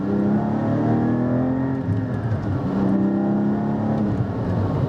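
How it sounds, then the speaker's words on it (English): Porsche GT4 fitted with a Milltek exhaust, engine droning loud and near with revs sliding down and back up across a gear change, a rough burbling undertone beneath the steady tone. "it burbles when you go into neutral and change gear"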